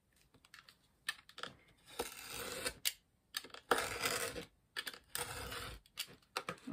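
A craft knife drawn along a ruler cuts through a Tack and Peel sheet in short scraping strokes, separated by taps and brief handling clicks, close and fairly quiet with pauses between cuts.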